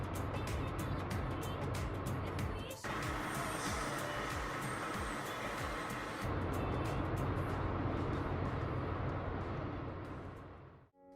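Steady car engine drone while driving, a continuous low rumble filling the whole stretch with road noise, a brief knock near three seconds, fading out at the very end.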